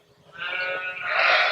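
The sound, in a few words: lambs bleating in a sheepfold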